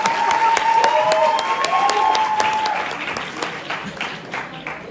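An audience at a university event breaks into loud, dense applause that holds strong for a few seconds and then thins as clapping tapers off, with a high whistle-like tone briefly running through it.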